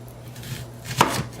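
A knife slicing through an onion on a cutting board, a single crisp cut standing out among softer scraping sounds, close and quiet with no talking.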